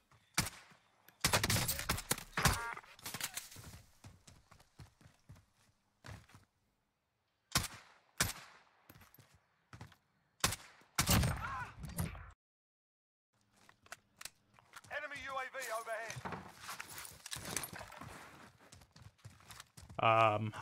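Bursts of Oden rifle fire with SP rounds in Warzone, a video game, cracking in quick volleys between louder and quieter stretches, mixed with someone talking and other game sounds.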